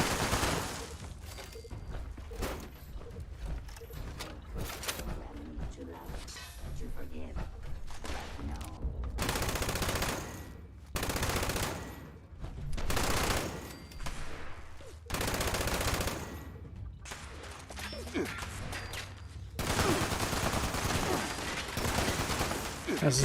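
Shotgun blasts in a Fallout 76 firefight, loud bursts of fire packed into clusters and broken by short lulls, with players talking through the action.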